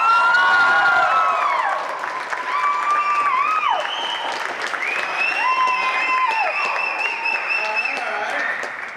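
A college crowd applauds and cheers for comedian Eric Hamilton: steady, loud clapping and whooping throughout, with shrill whistles and sustained high cheers riding over the dense applause.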